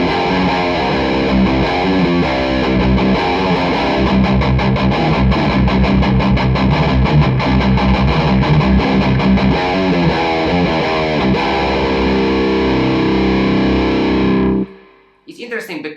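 A Gibson Les Paul electric guitar played through heavy distortion, with thick, dark chords and riffs churning loudly and without a break, then cutting off abruptly before a brief scrape of noise.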